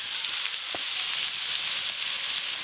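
Grated carrot and beetroot hit hot oil in a pan with ginger and green chilli, giving a steady broadband sizzle and hiss that runs throughout, with a brief stir scrape partway.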